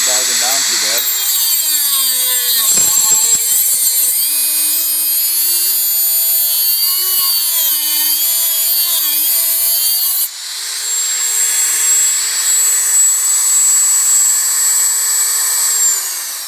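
A Dremel 3000 rotary tool cuts with a disc, giving a loud, steady high-pitched whine and grinding rasp that sags in pitch under load, then briefly eases and picks back up, heard alone throughout.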